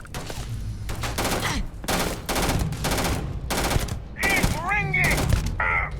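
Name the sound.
gunfire in video game Starfield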